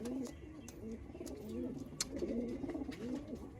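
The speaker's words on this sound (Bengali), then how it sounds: "কত পায়রা দেখুন বন্ধুরা, এক গাদা পায়রা নিয়ে ঘরে রেখে দিয়েছে।" Punjabi Malwai pigeons kept indoors coo in soft, rolling phrases, several birds overlapping close by, with faint background noise and occasional light clicks.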